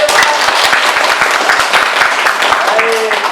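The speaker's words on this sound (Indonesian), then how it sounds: "Tepuk tangan dulu untuk Deva." Classroom applause from students, a dense patter of hand claps running steadily throughout at close range, with faint voices mixed in beneath.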